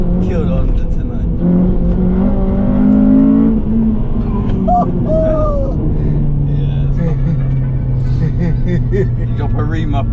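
A Honda Civic Type R FN2 fitted with an HKS intake and Tegiwa exhaust revs loudly nearby, its engine note rising and holding in sustained pulls while people talk over it throughout.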